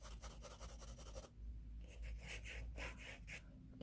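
Pencil strokes shading a drawing of a transparent glass cup on paper: quiet, close scratchy rubbing in a steady run of back-and-forth strokes, briefly pausing before resuming in short repeated bursts.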